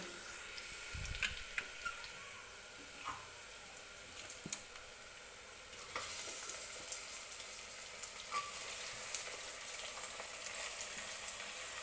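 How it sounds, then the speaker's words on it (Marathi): Mutton frying in oil for a spicy sukka mutton, a soft, continuous sizzle that grows fuller and a little louder about halfway through. "मटण छान असं तेलामध्ये परतून घ्यायचं आहे आपल्याला"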